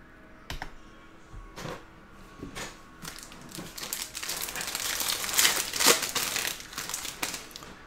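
A 2021-22 Prizm NBA hobby trading card pack is torn open, with a few sharp crinkly rips at first, then a busier stretch of crumpling foil wrapper that grows louder near the end, close up and without talking.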